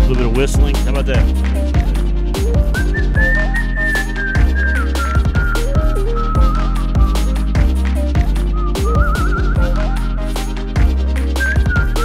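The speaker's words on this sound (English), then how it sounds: "A little bit of whistling." A person whistles a melodic tune live in a studio setting, clear and close over a rhythmic musical backing with steady beats.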